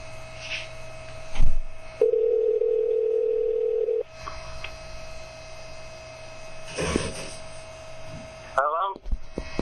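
A steady electronic telephone tone sounds for about two seconds over a low hum, followed by quieter line noise and a few faint clicks.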